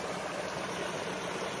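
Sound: water flowing down a jungle waterfall stream

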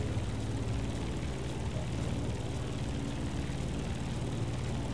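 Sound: airplane flying in video game The Crew Motorfest

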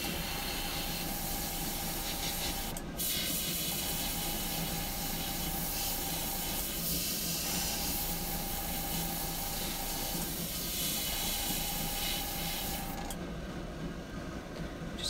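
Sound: airbrush spraying paint on an eagle walking staff

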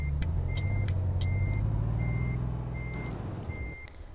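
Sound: truck reversing beeps in a driving video game

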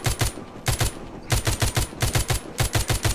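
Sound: machine gun fire in the video game The Walking Zombie 2

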